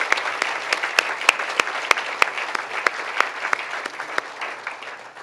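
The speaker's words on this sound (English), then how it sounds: "So can we give them all a round of applause real quick?" An audience at a State of the Cities address claps steadily, with a few sharp nearby claps standing out over the dense roomful of applause.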